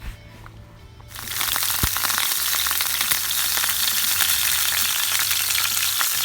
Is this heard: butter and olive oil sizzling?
yes